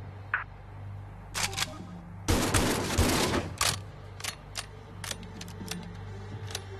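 Gunfire from shooting open a weapon cache in the VR game Part X on Meta Quest 3: a dense, loud burst of rapid shots lasting about a second, followed by a series of sharp, separate clicks and clacks over a low steady hum.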